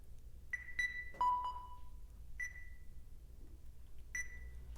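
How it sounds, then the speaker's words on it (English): Soft synth beeps, from a Rhodes, ring out one at a time, sparse and irregular, each pinging note fading with a short echoing tail in a quiet space. "This is just kind of like a little mysterious beep."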